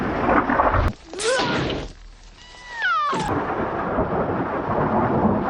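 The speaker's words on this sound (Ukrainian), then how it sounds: "Для проникнення в житло Сем Ерік під гуркіт грому вибиває двері" Rain pours down with heavy rumbling thunder, broken by a short lull in which a cat meows and yowls before the storm noise returns, from a film's storm scene.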